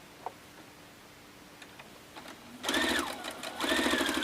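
A domestic sewing machine stitching a quilt trading card starts after a quiet lead-in with a couple of faint clicks, then runs in two steady whirring bursts with a brief dip between, close and moderately loud.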